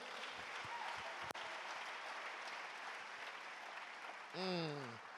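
A church congregation claps steadily in a dense, sustained wash of applause, moderately distant, with a brief sharp knock and a voice rising near the end.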